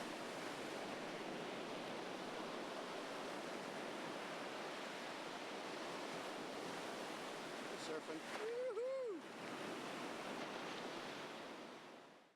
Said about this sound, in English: I've got the constant sound of the ocean waves